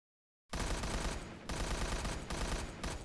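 Rapid automatic gunfire from a video game survival kit, a dense continuous burst that starts abruptly and runs loud and close with brief dips, no voices.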